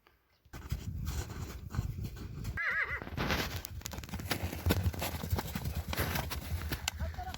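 An Orlov trotter horse gives a clear whinny partway through, with steady clip-clop hoofbeats running close by from start to finish.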